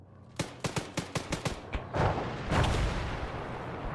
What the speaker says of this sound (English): That was an explosion to our southeast.